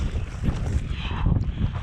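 Wind buffeting a microphone on a rainy trail run in New Caledonia, a steady low rumbling roar with gusty surges throughout and no voices.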